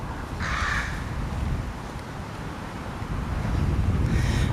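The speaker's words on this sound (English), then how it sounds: "We got a lot of active crows in here." Crows caw in a cemetery, two short bursts of harsh calls at the start and again at the end, moderately distant, over steady wind noise against the microphone.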